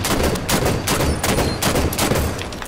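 Rapid, dense gunfire from Halo 5 Guardians Big Team Super Fiesta, loud continuous bursts of repeated shots filling the whole stretch without pause, no voices over it.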